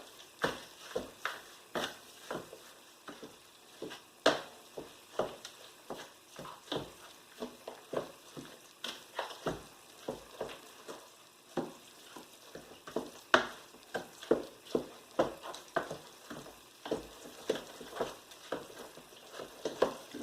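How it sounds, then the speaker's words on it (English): A big wooden spoon works through a thick cornbread dressing in a bowl, giving repeated soft, wet thuds and scrapes in an uneven rhythm, close and fairly quiet. "I've got my big wooden spoon here. I'm going to mix this all up."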